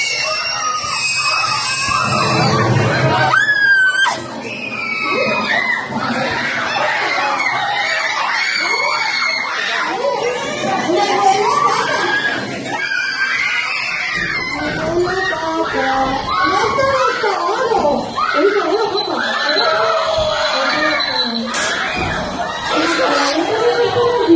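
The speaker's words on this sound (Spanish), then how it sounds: "que grita" Crowds of people shriek and scream inside a haunted tunnel attraction, with repeated loud, close screams mixed with excited chatter and laughter that carry on for the whole stretch.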